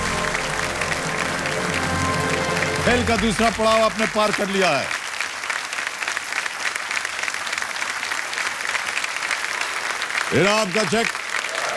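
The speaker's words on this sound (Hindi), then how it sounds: "और तालियां बजती रहनी चाहिए इनके लिए।" Studio audience applause on a televised quiz show, steady dense clapping running under a host speaking Hindi and a musical sting, continuing throughout.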